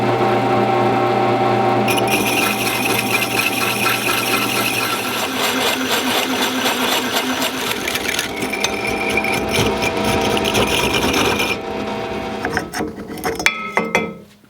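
A drill press fitted with a tube notcher cuts through roll bar tubing, giving a steady loud grinding whine with metallic clinks that runs for about eleven seconds, then winds down to scattered clatter at the end.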